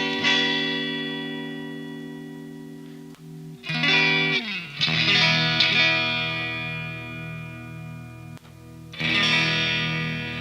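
Electric guitar played through a Hughes & Kettner amp into a vintage open-back cabinet, with sustained ringing chords and arpeggios, some slides and swells, the tone slightly driven with chorus-like shimmer and reverb, loud and with no talking.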